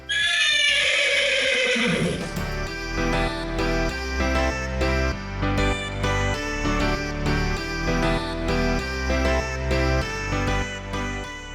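A horse gives a brief whinny at a horse farm in Berlin, loud and near for about two seconds, before steady tonal background music takes over.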